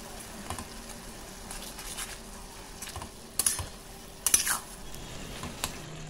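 Bottle gourd curry being mixed in a pan with sugar, a low continuous sizzle under soft stirring, with two sharper clinks of the utensil against the pan near the end.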